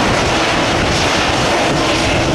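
Southwest airliners at the airport produce a loud, steady engine roar, a dense broadband rush that holds constant throughout without breaks or voices.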